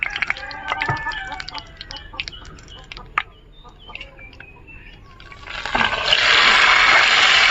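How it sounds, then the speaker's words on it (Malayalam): Hot sizzling tempering is poured into a mango curry and erupts into a sudden loud, sustained hiss near the end, after a quieter stretch of bird calls and clinks in the background. "അപ്പം നമുക്ക് നമ്മുടെ കറിയിലേക്ക് താളിക്കത് ഒഴിച്ചു കൊടുക്കാം"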